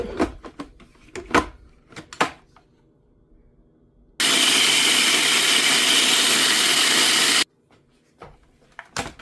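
A mixer grinder pulverizes dry horse gram in one loud, steady whirring roar of about three seconds, starting and stopping abruptly, with close clattering and knocking of the jar before and after.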